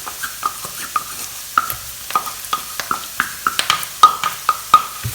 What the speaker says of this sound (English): At this stage, I'm going to add my garlic.